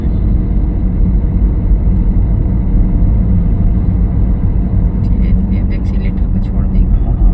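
A learner car rolls along at about 30 km/h with a constant low engine and road rumble inside the cabin while an instructor and driver talk.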